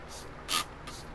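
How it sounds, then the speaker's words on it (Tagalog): Seaway's Oil Stain Grease Remover spray bottle gives one short, crisp hissing spray burst, close and clear in a quiet kitchen. "spray lang po natin sa mga stain o sa mga oil splash, ganyan"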